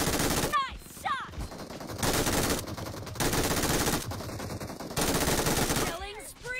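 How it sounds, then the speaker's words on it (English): Video game gunfire, with shotgun blasts and bursts of rapid automatic fire in loud sustained stretches, broken by short swooping game effects between volleys. "He shotgunned me from that far."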